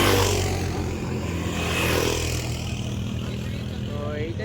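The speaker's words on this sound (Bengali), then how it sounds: "এগুলো ডেজার্ট সাফারি, সব বাইক রাইডিং করছে এখানে" Motorbikes ride across the sand on a Dubai desert safari, their engines a steady low drone that swells and eases with a faint scrape of sand, with voices over the noise.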